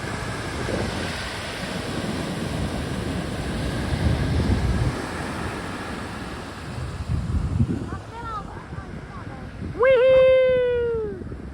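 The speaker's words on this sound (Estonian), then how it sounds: "Siin on ikka suured lained." Large ocean waves roll and break on a Mexican Pacific beach at Puerto Escondido, a steady broad wash of surf and wind swelling and fading for several seconds, with a dog's short whining bark cutting in near the end.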